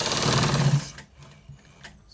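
A sewing machine stitches white trouser fabric in a close, loud running burst that stops abruptly after about a second, leaving faint scattered handling noises.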